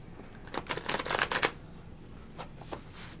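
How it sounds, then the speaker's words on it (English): A thin, glossy tarot deck is riffle-shuffled by hand, giving a quick burst of crisp fluttering card slaps up close, then a few softer taps as the cards settle. "I like decks like this that are a little glossier and thin that I can just shuffle more easily."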